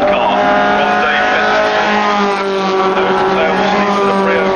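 Classic sports racing cars, a fleet of Marcos cars among them, race at Brands Hatch with loud engines howling and rising in pitch, while a commentator talks over the racket.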